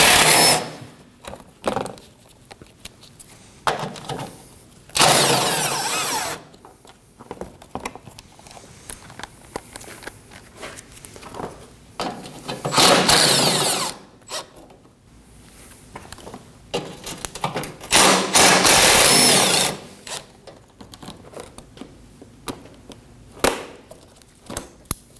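A power tool runs in several separate bursts while removing four 10mm bolts from the bottom of a 2016-2022 Honda Pilot 3.5L during an AC condenser replacement. The bursts are close and loud, with quieter gaps between them.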